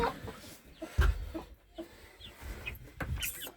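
Chickens, a rooster and a small hen, cluck nearby in short scattered bursts among faint rustling, with no talking.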